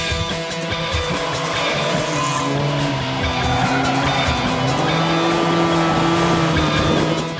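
Race car lapping a track under hard cornering, engine note rising and falling steadily with faint tyre squeal, loud and close throughout with no talk.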